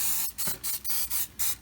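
Butter-flavor cooking spray hisses onto flour-coated chicken wings in quick repeated bursts, about five short sprays separated by brief pauses, close and fairly loud with no talking.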